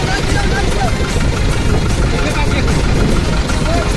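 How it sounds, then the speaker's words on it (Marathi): A large boat's engine runs at a steady idle, a loud, continuous low rumble that fills the whole stretch without letup. "मोठी होडी पण स्टार्ट केली."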